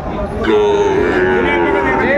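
Sahiwal bull calves at a cattle market give a loud, close, drawn-out moo lasting about two seconds, with market noise underneath.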